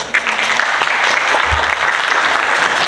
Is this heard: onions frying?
no